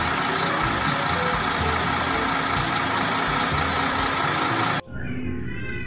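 Idling engine of a cement mixer truck gives a steady, loud diesel rumble for most of the stretch, then cuts off abruptly near the end, leaving a quieter background.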